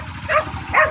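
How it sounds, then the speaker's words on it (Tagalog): A dog on a farm gives two short, close whimpering barks, evenly spaced, with a quiet rural background between them. "nagugutom na ho ang ating aso"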